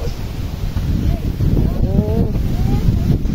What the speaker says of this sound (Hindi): बहुत हवा चल रही है जनाब।